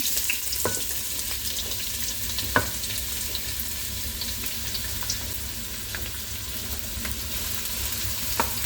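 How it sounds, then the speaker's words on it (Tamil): Onions and chillies fry in hot oil with a steady sizzle, crackling pops and a few sharper spits, continuous and close, with no voices. "இந்த எண்ணெய் கொதிச்சிட்டுது அப்போ நான் இப்போ வெங்காயம் மிளகாயை போடுவேன்"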